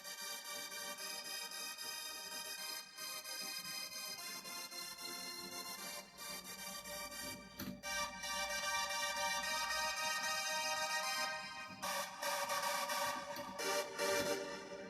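Layered synth chords built in FL Studio ring out alone as sustained, dense chord stabs, with brief dropouts near 6 and 7.5 seconds and a brighter, fuller passage toward the end.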